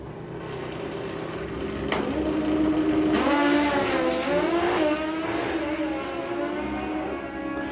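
Roaring drag-racing motorcycle engines rise and fall in pitch as they accelerate hard through gear changes, heard at a distance over a steady crowd-like rumble at Santa Pod Raceway.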